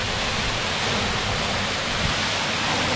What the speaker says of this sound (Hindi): और ये है फॉल, नीचे पानी गिरता हुआ बिल्कुल